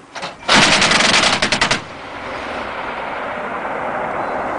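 A ceremonial rifle volley fired as a salute at a military memorial, a burst of sharp overlapping shots rattling in quick succession for about a second, then fading into open outdoor ambience.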